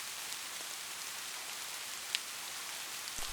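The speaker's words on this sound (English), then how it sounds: "The rain continues beyond the ancient windows." Steady rain falls outside old windows on a quiet night, an even hiss of drops with a few faint louder taps, constant and soft throughout.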